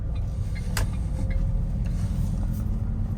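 A Ford Figo diesel hatchback pulls from around 1500 RPM with a steady low engine drone and road rumble inside the cabin, evenly loud throughout.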